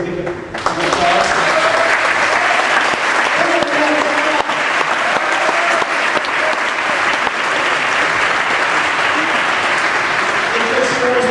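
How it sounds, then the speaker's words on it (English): Audience at a Boston Tea Party rally at Faneuil Hall breaking into loud, sustained applause, a dense wash of many hands clapping at once with cheers mixed in, steady and close for several seconds. "I think we should give her a big applause."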